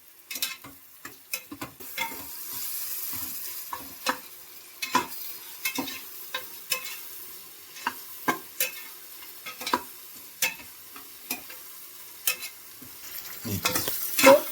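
Onions and tomatoes frying in oil for seeraga samba mutton biryani, with a soft low sizzle beneath repeated sharp stirring clicks and scrapes of a spoon against the pot, close up and unaccompanied by speech.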